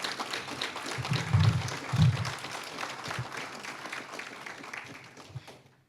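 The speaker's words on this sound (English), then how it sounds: "Please give her another round of applause" A room of attendees at a Tiger Bay club gathering applauds a speaker again, with fairly faint, scattered clapping, a couple of louder low thumps near the mics, tapering off toward the end.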